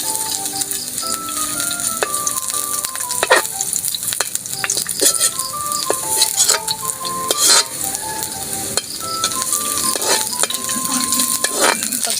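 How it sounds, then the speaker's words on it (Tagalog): Garlic sautéing in a pan for ginataang baboy, a steady loud sizzle and crackle of frying with frequent scraping and clinking of a spatula stirring against the pan throughout. "Magigisa na tayo ng bawang"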